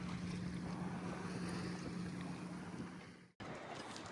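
Wind rushes steadily over a Catalina 30 sailboat under sail, a loud constant broadband roar with a low hum that cuts out sharply for an instant near the end before resuming.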